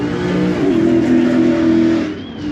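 A Ford Mustang 5.0 with a manual gearbox revs loud and close, its engine holding a steady, rising drone for about two seconds before easing off near the end.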